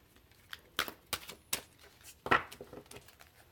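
Soft, quiet riffling and slapping of tarot cards being shuffled, a series of brief crisp bursts in an otherwise hushed space.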